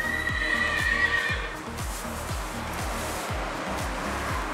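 A horse gives a high, wavering whinny while its long mane is braided into a stallion braid, heard up close over the first second and a half, with a steady run of low, rhythmic thumps underneath throughout.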